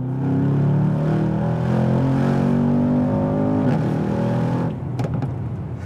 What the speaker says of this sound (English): let's talk about how good this 4 litre engine is in the S-Class